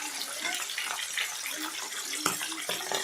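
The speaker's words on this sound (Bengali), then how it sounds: "তেলটা গরম হওয়ার পরে আস্তে আস্তে করে মাছগুলোকে দিয়ে দিলাম।" Bhangar fish fry in hot oil in a pan, giving a dense crackling sizzle with sharp spits and pops that carries on steadily from close by, with no talk.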